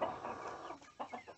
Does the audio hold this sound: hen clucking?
yes